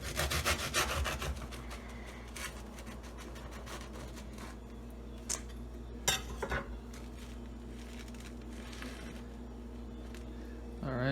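A knife saws the ends off a crusty baguette roll for a banh mi, making soft rasping strokes with a few sharper crunches, fairly quiet and close.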